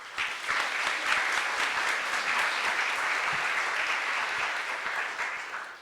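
Audience applause, a dense and even round of clapping that holds steady for several seconds and tapers slightly at the end, with no talk over it.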